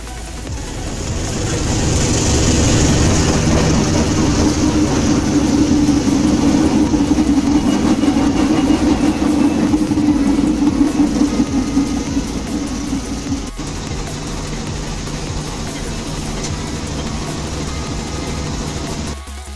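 A Railsprinter locomotive and Argo passenger train run on rails, a loud engine rumble building over a few seconds, holding steady, then easing slightly toward the end.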